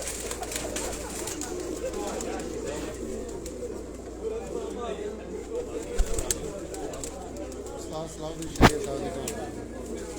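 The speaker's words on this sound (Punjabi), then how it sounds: "ਇਹ ਜੀ ਉਸਤਾਦ ਸਲਾਹੁਦੀਨ ਸ਼ਹਿਰੀਆ ਸਾਹਿਬ ਹੋਰਾਂ ਦੇ ਘਰ ਦਾ ਕਬੂਤਰ ਹੈ ਜੀ।" A Kasuri cross pigeon from a Sialkot loft coos repeatedly in soft, throaty rolling phrases close by, with voices talking in the background and a couple of sharp knocks.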